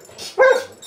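A single sharp, close dog bark rings out near a four-wheeler on a farm with a barn, loud and brief against a quiet background.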